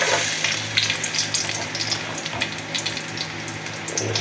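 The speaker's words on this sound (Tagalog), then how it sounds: "Bisa na po natin mag-gisa ng ating mga sahog. Uunahin na po natin ang ating bawang." Garlic sizzles in hot oil in a pan as the sauté for chicken mechado begins, a steady close crackle with light stirring scrapes and no talk.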